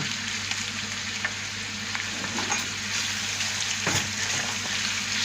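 Steady sizzling and crackling of chopped kokoreç frying in a hot pan, continuous and close, with occasional louder pops and scraping of stirring.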